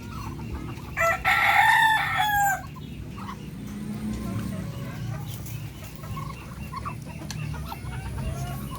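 A rooster crows loudly and close for about a second and a half on a farm with ducks and laying hens, then chickens cluck and scratch softly in a steady low backdrop.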